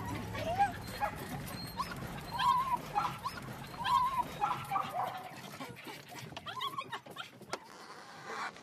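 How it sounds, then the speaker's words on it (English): Small terrier-type dogs hunting rats around farm buildings, yipping, whimpering and panting excitedly in repeated close bursts, with a few high barks amid rustling movement. "The excitement of watching the little dogs work."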